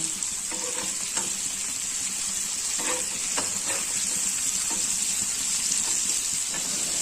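Fish sizzling and frying in a pan, a continuous bright hiss with scattered pops and crackles and a few soft clinks of turning, close and steady, no voices.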